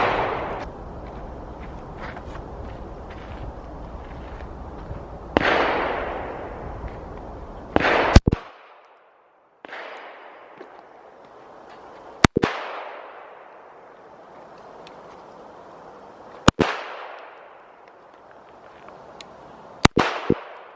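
Shots from a Smith and Wesson .380 EZ pistol at an outdoor range: several sharp, loud cracks spaced a few seconds apart, each trailing into a decaying echo, over a steady background hiss.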